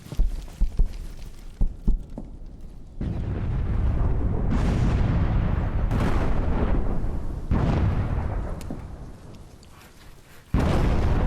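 Machine gun fire in a video game, heavy booming rounds and thudding impacts, a few separate shots followed by a long sustained rumble of fire that fades before a sudden loud burst.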